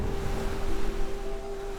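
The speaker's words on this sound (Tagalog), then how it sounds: "parang musika ang paghampas ng nagtataasang mga alon" High waves crash steadily against a rugged coast of cliffs and green hills, a continuous loud roar of surf with wind buffeting the microphone and no voices.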